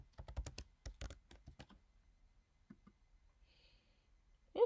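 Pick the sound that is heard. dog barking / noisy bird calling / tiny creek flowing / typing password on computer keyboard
typing password on computer keyboard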